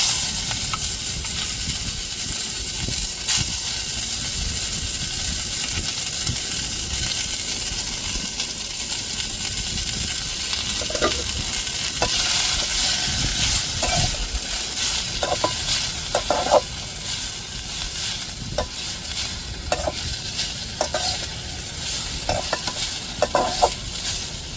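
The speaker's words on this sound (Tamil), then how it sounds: "எண்ணெயில் அப்படியே வதக்கி எடுப்போம்." Dried red chillies frying in oil in a pan, a steady close sizzle with intermittent stirring scrapes and clinks growing more frequent toward the end.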